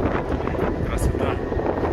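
Steady wind buffets the microphone in gusty rumbles on a hike at Big Bear, loud and close, with no clear talk over it.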